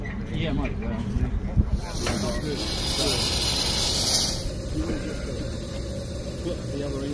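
Steam hissing from a live steam locomotive as it steams up at a run, a steady broad hiss that swells and then eases, with people chatting nearby over it.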